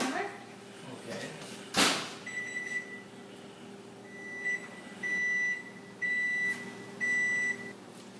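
A kitchen timer being set while making focaccia gives a run of short electronic beeps, some single and some in longer bursts, clear and fairly close in a quiet kitchen after a sharp knock.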